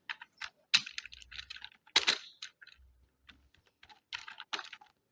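Subject names being typed on a computer keyboard into a school management system form: quick, irregular bursts of close key clicks separated by short pauses, with no speech.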